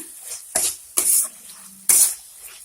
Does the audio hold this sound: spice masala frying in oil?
yes